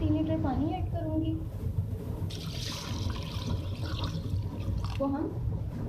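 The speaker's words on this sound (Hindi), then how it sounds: "अब इसमें मैं 3 लीटर पानी ऐड करूँगी" Water is poured into a cooking pot for a spicy beef pulao, a splashing gush heard under someone talking nearby.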